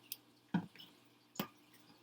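Oil dripping from a measuring teaspoon into a bowl while making shrimp toast: two soft, close drips about a second apart in a quiet kitchen, with a fainter tick before them.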